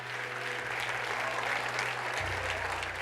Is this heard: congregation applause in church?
yes